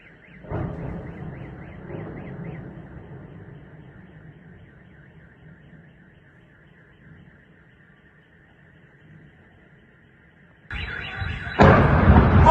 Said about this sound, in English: Another massive explosion.